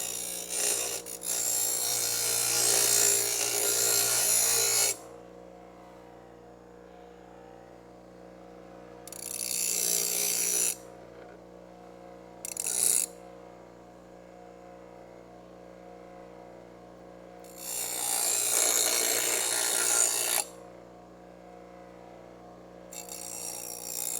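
Bench grinder cleaning the edges of a metal part for a Dodge Charger crew cab restoration, in several loud, close bursts of a few seconds each over a steady hum, with quiet gaps between bursts.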